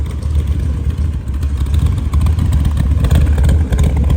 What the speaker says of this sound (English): I do have the car running, 351 under the hood.